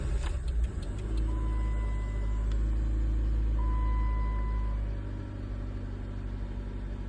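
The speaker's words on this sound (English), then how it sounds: "I'll start the car. It might turn on then." A Jeep Patriot engine cranks and starts, settling into a steady low idle rumble close by, with two short electronic chimes sounding over the running engine.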